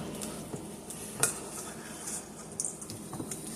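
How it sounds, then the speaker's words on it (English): Cream cheese stuffing for salmon with shrimp is stirred in a bowl with a utensil, giving faint soft scraping and a few light clinks against the bowl, close by and quiet with no talking. "Now I'll go ahead and I'll mix it together here before I add my spinach"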